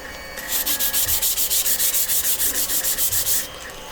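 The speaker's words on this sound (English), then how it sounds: "May want to do a bit of extra sanding here" Close, rhythmic sanding strokes rasp back and forth along a seam on a prop katana at an even pace, about a dozen passes with no voices.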